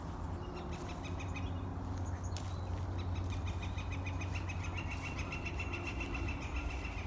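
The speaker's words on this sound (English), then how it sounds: "Listen, those flickers are calling back and forth to each other." Several flickers (woodpeckers) call back and forth in repeated bright notes over a steady outdoor hiss, with traffic noise in the background.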